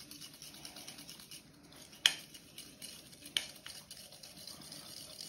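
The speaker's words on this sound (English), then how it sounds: "add that into the sugar, give it a mix up" A spoon scrapes and stirs sugar mixed with lemon juice in a bowl, soft swishing broken by two sharper clinks against the side.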